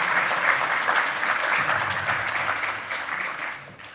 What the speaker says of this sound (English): There's a time for applause written in this speech